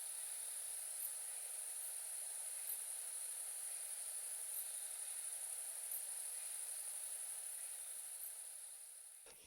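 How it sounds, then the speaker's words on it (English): Crickets chirp steadily on a summer night in open fields, a dense continuous high trill with faint pulsing, close and even throughout before tapering slightly at the end. "spending summer nights out in the fields with sounds of crickets"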